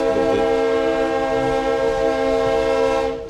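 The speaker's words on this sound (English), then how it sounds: "The horn said it all." A loud, sustained train horn blaring close by with a rich multi-tone chord, fading off at the end, on a Pennsylvania train.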